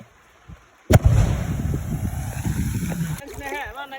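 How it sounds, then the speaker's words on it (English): A fishing bomb thrown into the Barak River explodes with one sudden heavy thud, followed by a long low rumbling churn of water. It is loud and close, with wind noise on the microphone and voices speaking near the end. "he's throwing the bomb there."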